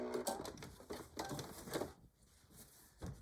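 A sewing machine back-stitching the fabric front of a beach or diaper bag, with quiet rapid mechanical stitching bursts separated by brief pauses, close but faint.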